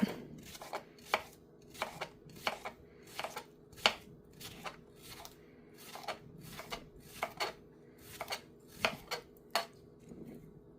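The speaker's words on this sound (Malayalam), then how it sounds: "ഇനി ഞാൻ നമ്മുടെ ആവശ്യാനുസരണം എല്ലാം തന്നെ അരിഞ്ഞെടുക്കട്ടെ" Brisk knife chops on a cutting board while cutting salad vegetables, a steady run of sharp taps, some in quick pairs, close and clear with no talking.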